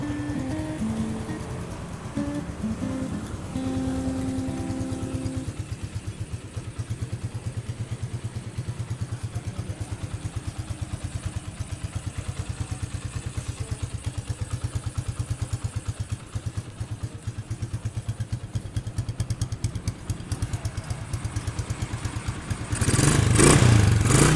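A 2016 Stallion Centaur Siam70 motorcycle engine idles steadily with a throbbing, clattering beat, close and constant, before a louder rev surges in at the very end.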